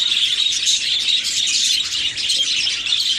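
A colony of budgie parrots chirps continuously, a dense, bright chatter of many birds close by with no talk over it.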